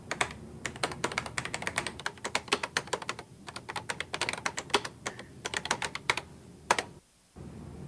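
Fast clicking keystrokes on a 1987 Panasonic word processor keyboard, tapped close up in quick irregular bursts with short pauses, then stopping near the end.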